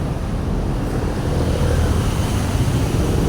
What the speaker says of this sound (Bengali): দেখুন ট্রলার যাচ্ছে